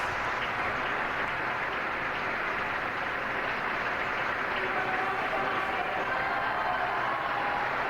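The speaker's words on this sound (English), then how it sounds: "And cries of Viva el Papa go up from the crowd" A large crowd greeting Pope Francis with continuous applause and shouts of "Viva el Papa," a dense, unbroken wash of clapping and cheering that stays loud throughout.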